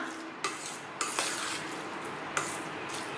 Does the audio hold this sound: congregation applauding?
no